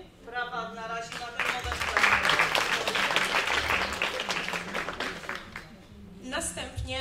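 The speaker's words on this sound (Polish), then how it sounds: "Brawa na razie na ten moment." A room full of people claps in sustained applause that swells and then fades, with someone speaking just before and again at the end.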